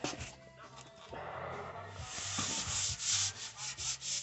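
Bondo body filler being sanded on the rockers and floor plates of an old truck, a steady close scraping rub that swells louder in rhythmic strokes toward the end.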